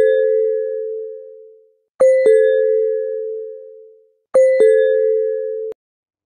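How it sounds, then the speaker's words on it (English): A doorbell chimes three times, each a clear two-tone ding-dong that rings out and fades before the next press. It is loud and close, with no speech. "Doorbell."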